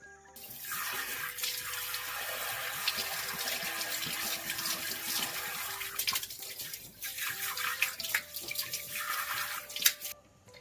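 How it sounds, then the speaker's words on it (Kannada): An item is washed under a running kitchen tap before being soaked in water: a steady splashing stream with shifting gurgles, a brief lull midway, then more splashing before the flow stops at the end. "ಇದನ್ನು ಇವಾಗ ತೊಳೆದ್ಬಿಟ್ಟು ನೀರಲ್ಲಿ ಸ್ವಲ್ಪ ಹೊತ್ತು ನೆನೆಸಿಡ್ತೀನಿ"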